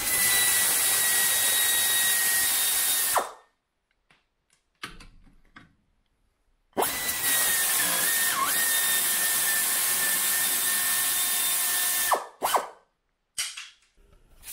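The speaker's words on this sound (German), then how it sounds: "mit der Druckluftratsche" Pneumatic air ratchet removing shock absorber bolts on a Corvette C3, loud high-pitched whining runs of several seconds each, with short gaps and quick clicking bursts between them, close and without talk.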